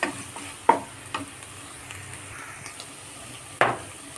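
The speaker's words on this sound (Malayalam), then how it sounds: "ഇനി ഇതിലേക്ക് തക്കാളി ഇട്ട് കൊടുക്കാം" Tomatoes going into a hot pan of softened ginger, green chilli and garlic for a Kerala beef roast, giving a low steady sizzle broken by a few sharp clinks and scrapes of a spoon against the pan.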